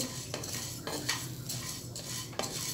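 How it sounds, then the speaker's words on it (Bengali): Rice is dry-roasted in a frying pan for chal bhaja while a spatula scrapes and stirs it continuously. The faint, steady rustle and sizzle is broken by a few louder scrapes, and no one speaks. "আর এখন আমি এই চালগুলোকে ভালোভাবে নেড়ে চেড়ে ভেজে নিচ্ছি"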